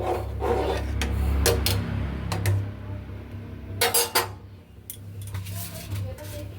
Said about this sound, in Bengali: চলো আমি সবজিগুলো কেটে নিই